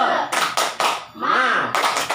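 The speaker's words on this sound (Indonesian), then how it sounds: "Baik, kita tepuk semangat." A group performs a rhythmic spirit clap at a training session, with bursts of loud, close hand claps in a patterned beat broken by a chanted shout.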